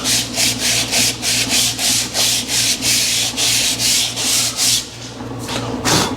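Someone sands the glazed surface of a drum brake shoe on a shop truck with 80 grit sandpaper. The strokes are loud and close, rasping back and forth in an even rhythm of about twelve passes.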